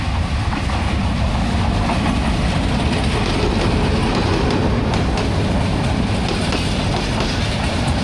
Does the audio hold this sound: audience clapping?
no